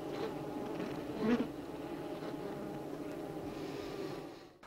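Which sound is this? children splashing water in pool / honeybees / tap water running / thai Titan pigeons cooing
honeybees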